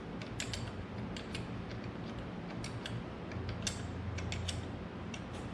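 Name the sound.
tightening magneto bolts snug with a wrench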